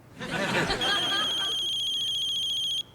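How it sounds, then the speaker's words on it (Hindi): An incoming-call ringtone on a phone plays briefly, a bright electronic warble with steady high tones after a burst of noise at the start, then cuts off abruptly. "देख अब बीवी का फोन आ रहा है।"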